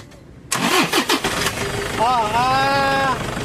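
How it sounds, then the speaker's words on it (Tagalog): A Toyota Innova engine cranks and starts at about half a second, sputtering through a few uneven pulses before settling into a steady, rising idle; a voice is heard near the start. "Pa-start ko muna itong sasakyan ni customer mga boss"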